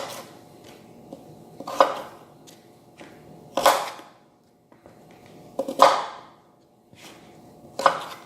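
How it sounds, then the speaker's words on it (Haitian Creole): Carrots chopped with a knife on a board, four distinct sharp cuts spaced about two seconds apart with faint handling sounds between, close and isolated. "Je vais couper les carottes par mieux."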